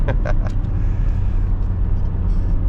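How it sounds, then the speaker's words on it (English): A BMW E34 520i 24V straight-six revs slowly while driving, a loud, close low engine rumble holding steady throughout, with a few brief higher clicks near the start. "You have a lot of time to hear that engine while revving slowly."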